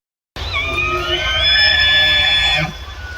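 An elk bugles while wading through water in western North Carolina in the fall, one loud, sustained, high whistling call with a rising then steady pitch that breaks off sharply, followed by quieter background noise.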